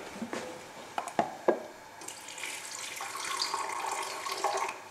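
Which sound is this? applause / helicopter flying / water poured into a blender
water poured into a blender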